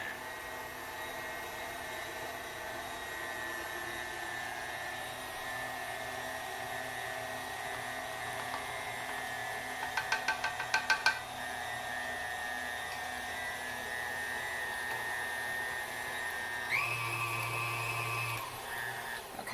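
An electric mixer whirs steadily while blending sugar cookie dough, a continuous close motor drone that shifts pitch near the end, with a brief run of rattling clicks in the middle.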